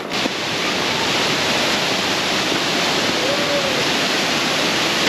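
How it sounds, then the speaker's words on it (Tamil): The Naganathi waterfall near Vellore roars in a loud, steady broadband wash that starts abruptly and holds unbroken for several seconds, close and continuous, with no speech over it. "அருவியோட சத்தம் எனக்கு நல்லா கேட்குது."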